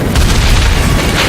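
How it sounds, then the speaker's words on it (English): A heavy bazooka explosion from the film Mr. & Mrs. Smith (2005) roars as one sustained, very loud boom with deep rumbling low end, filling the whole moment without any voices. "John, angry and not knowing it was Jane who shot him, immediately responded with his bazooka."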